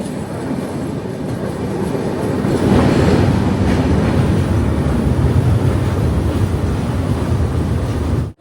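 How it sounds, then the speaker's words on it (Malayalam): Close, loud rumble of a passenger express train pulling into Muzaffarpur Junction in Bihar, a steady roar of wheels and carriages growing fuller, with faint clicking of rail joints throughout. "ട്രെയിൻ ഇപ്പോൾ മുസാഫർപൂർ ജംഗ്ഷൻ റെയിൽവേ സ്റ്റേഷനിലേക്ക് എത്തിയിരിക്കുകയാണ്"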